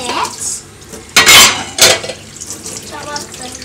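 Children washing dishes at home, with plates and cutlery clattering and clanking close by, including two sharp loud bursts, over running water and faint voices.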